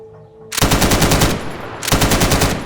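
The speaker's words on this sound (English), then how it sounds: "This air-cooled machine gun was intended to provide better supporting fire for an infantry squad, more so than the BAR." An air-cooled M1919 Browning machine gun fires two loud, close bursts of rapid, evenly spaced shots, the first lasting about a second and the second following after a brief pause.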